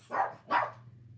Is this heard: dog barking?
yes